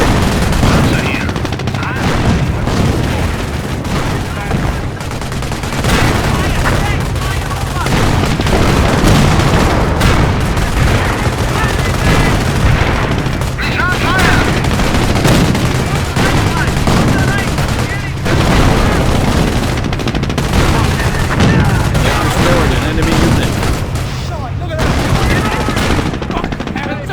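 Heavy gunfire and explosions from the World War II strategy game Company of Heroes, set during Operation Market Garden, form a dense, continuous battle roar of bursts and booms throughout, with voices coming through over the fighting.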